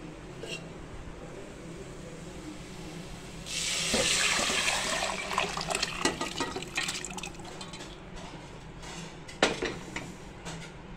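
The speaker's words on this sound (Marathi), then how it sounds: "आता आपण हे मटणाचा जो आळणी रस्सा केलेला आहे तो आपण टाकणार आहे ह्याच्यामध्ये" Unsalted mutton broth is poured into dark roasted masala in a cooking pot for a spicy village-style mutton curry, producing a close rushing splash for a few seconds, followed by light clinks and liquid movement.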